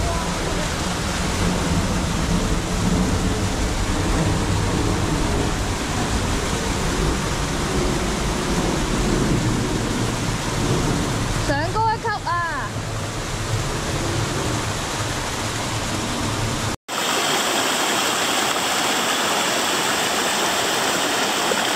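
A mountain stream and waterfall on a Hong Kong hillside gorge rush as a steady, loud broadband roar throughout, with a brief voice-like warble midway and a sharp cut to a thinner hiss near the end.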